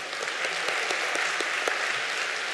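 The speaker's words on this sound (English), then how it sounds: "give a good round of applause" An audience at an entrepreneurship presentation gives a round of applause, a steady wash of many hands clapping at even loudness, with a few sharper individual claps standing out.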